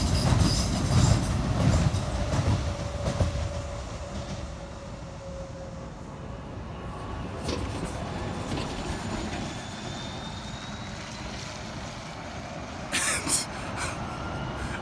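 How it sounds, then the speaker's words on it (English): A train rumbles and rolls out of a station at West Ham, its low drone fading slowly, with station ambience and a brief clatter near the end. "And there's a train leaving."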